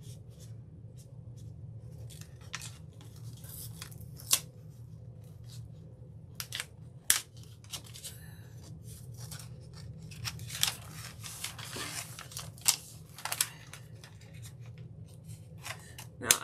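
Scissors cut apart paper around printed lettering, with soft close snips and rustles and a handful of sharper louder snaps spread irregularly across a quiet background.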